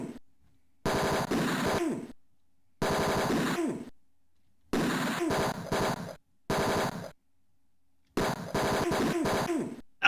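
Synthetic video-game gunfire from the old PC adventure Tex Murphy: Mean Streets, five rapid bursts of bullets separated by silent gaps, each burst a harsh buzzing rattle ending in a falling squeal.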